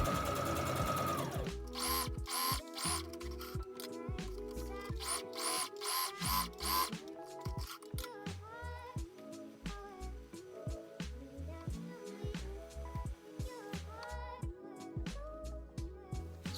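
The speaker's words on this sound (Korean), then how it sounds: "그리고 나서 소매의 옆선을 봉제 후 이어서 오버로크 쳐주세요." An overlock sewing machine stitches a sleeve side seam in short whirring bursts, with rapid mechanical chatter repeating in uneven runs throughout, close and moderately loud.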